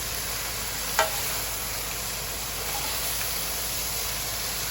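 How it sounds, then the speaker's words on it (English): Noodles and vegetables sizzle steadily in a saucepan set on a griddle, a constant hiss of frying with a single sharp clink near the start and no talking. "the noodles, they're in that saucepan on the griddle for a few more minutes"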